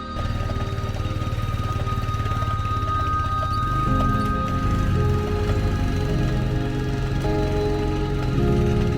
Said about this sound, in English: the bike is already struggling with loose sand on the road